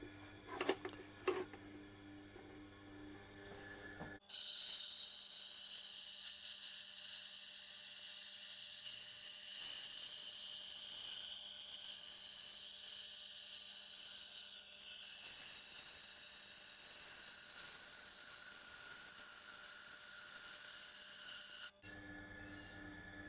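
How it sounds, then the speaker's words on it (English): A knife ground on an 80 grit diamond plate on a Tormek sharpener: a steady, bright, high-pitched grinding whine held for about eighteen seconds, close and loud, with quieter machine noise before and after. "I'm going to try and really get it round using the 80 grit diamond plate"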